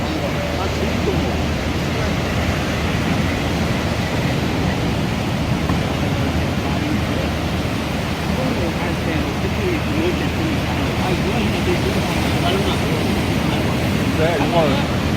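Ocean surf at Gangneung beach on the Korean coast, a continuous loud wash of breaking waves across the whole span, with wind buffeting the microphone.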